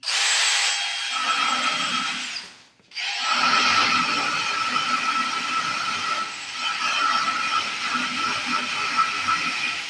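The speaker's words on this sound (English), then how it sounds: "I'm going to start by just wire wheeling this off so that it's clean." A wire wheel on a power tool grinds metal clean on a 1948 Willys pickup, with a loud steady whirring buzz, a short pause where it spins down, then continued grinding.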